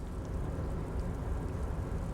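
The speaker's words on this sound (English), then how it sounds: "It's raining." Steady rain hisses down in the video game Disco Elysium, an even, dense wash of falling water with no breaks and no voices.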